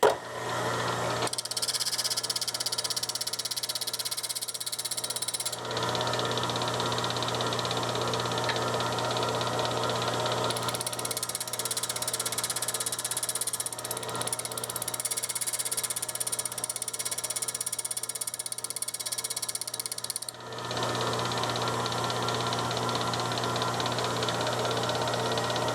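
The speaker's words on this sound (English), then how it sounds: "you just start turning this like this with the grinder running" A bench grinder runs steadily while a chisel or center punch is sharpened against its wheel, giving a continuous hum with grinding hiss that breaks briefly twice before resuming, with no talk.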